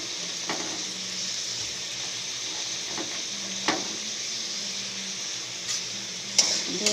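Chopped ginger and chili frying in a pan for chowmein-stuffed singhara, a steady close sizzle with a few soft clicks of stirring, no voices.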